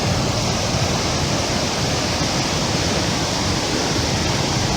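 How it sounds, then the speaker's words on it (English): Steady broadband rush of a creek flowing, heard on a sunny recumbent bike ride; constant, fairly loud and close, with no voices. "And there's the creek."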